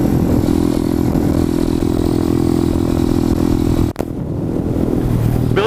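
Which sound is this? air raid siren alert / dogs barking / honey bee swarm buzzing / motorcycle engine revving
motorcycle engine revving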